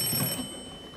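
A telephone ringing in a Dutch comedy sketch, a brief shrill electronic ring, close and fairly loud, fading out within a second with no voices over it.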